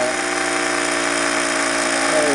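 Small, fast-spinning ORBO-style electric motor running on a single coil, giving a loud, constant high-pitched whir with no pauses or variation.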